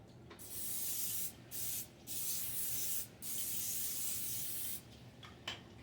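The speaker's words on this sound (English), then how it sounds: "I'm going to spray it with cooking spray" Cooking spray hisses from a can onto a pan in several sustained bursts separated by brief pauses, close and fairly loud, with no talking.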